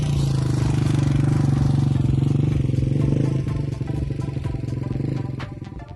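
A motorcycle rides along a road, its engine droning steadily up close, then dropping into a rougher, clattering tone with ticks and rattles partway through.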